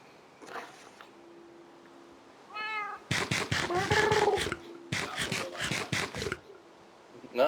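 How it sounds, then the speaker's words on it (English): A house cat meows close by, a short high call followed by a run of loud, rhythmic, strained meow bursts that repeat several times before fading. "one of my cats does this noise"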